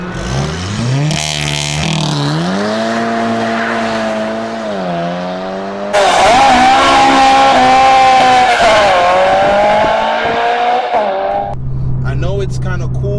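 A VW MK6 GTI with a DSG transmission revs and launches hard, engine climbing through quick upshifts in loud rising sweeps, then settling to a low idle, with a person talking over it.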